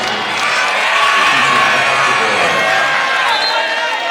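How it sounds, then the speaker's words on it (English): A high school basketball crowd, including a student section, erupts in loud, raucous cheering and applause, a dense sustained roar with whoops that swells and holds throughout. "Hear that loud, raucous applause behind us."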